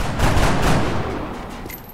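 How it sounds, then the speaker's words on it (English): Rapid gunfire from reaction shots in the XCOM: Enemy Unknown video game, a loud dense burst of overlapping shots that fills the whole moment and tails off slightly toward the end. "Four reaction shots and all of them missed."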